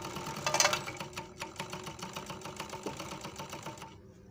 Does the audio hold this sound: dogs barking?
no